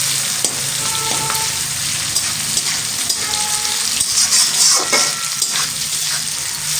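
Sliced ridge gourd frying with lightly browned onions in a pan: a dense, loud, continuous sizzle with occasional stirring clicks and crackles, no voices.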